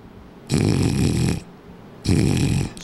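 A person imitates snoring with the mouth closed, making two long, loud rasping snores separated by a quiet breath, close up and alone.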